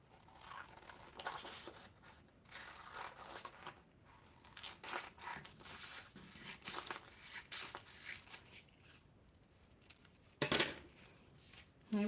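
Scissors snip through fabric while cutting out a zip-up cardholder pattern, a series of quiet irregular cuts and rustles close by, ending with a louder clatter.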